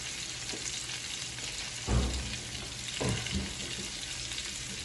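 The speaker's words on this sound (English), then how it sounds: "The grease is kind of popping all over the place" Oxtail frying in hot grease, a steady bright sizzle throughout with sharp pops and splatters bursting out near the two-second and three-second marks.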